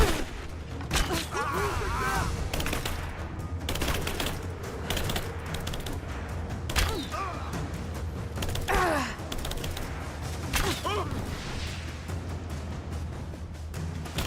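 Scattered gunshots and bursts of fire crack through a Rise of the Tomb Raider firefight at moderate level, mixed with shouted voices, gasps and other combat noise throughout.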